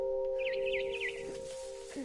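A bird in What Remains of Edith Finch: a short run of quick warbling chirps, clear and close, over a sustained musical drone.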